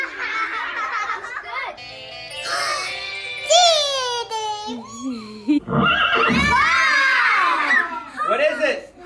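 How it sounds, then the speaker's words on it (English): A horse whinnies in a loud, descending neigh among a classroom scene, surrounded by excited children's voices and laughter shouting out together. "Horse! Everybody say horse."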